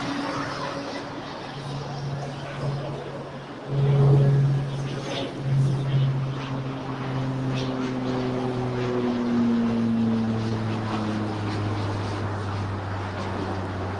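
An Aeromexico airliner taxis across runway 25 right at LAX, its engines a steady droning hum with a brief louder swell, heard from a distance under faint background chatter.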